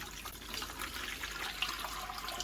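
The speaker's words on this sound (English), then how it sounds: "Let's just pour the water out." Water poured out of a bucket that held aquarium shrimp makes a steady, fairly quiet splashing rush that runs evenly through the whole moment, with no voices.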